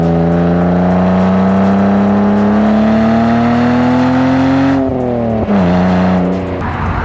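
A BMW Z3 2.3 with a 2.5-liter inline-six holds a loud, smooth, steady engine note that climbs gradually, then eases off and dips before settling, heard close with no talking.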